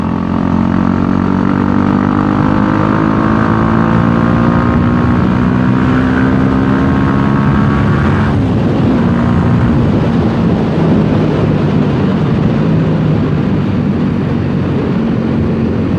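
A loud BMW G 310 GS motorcycle engine with an aftermarket exhaust drones steadily throughout, its exhaust note rising in pitch as it revs, then settling into a rougher, rumbling roar.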